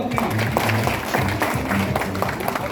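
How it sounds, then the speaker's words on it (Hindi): Group applause from participants in a teachers' training workshop on theatre in education, steady and dense clapping throughout, with some voices mixed in beneath it. "बहुत बढ़िया, एक बार ताली हो जाएगी आपका।"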